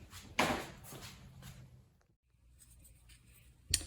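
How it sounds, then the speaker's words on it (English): A marker scrawls across torqued bolts on a Ford FE 445 engine in a workshop, a few short close squeaky strokes separated by a quiet pause, ending with a light tap. "I also mark my bolts once I torque them."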